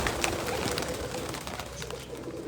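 Soft, low cooing from pigeons nearby, repeated over a rustling, busy background with no one speaking.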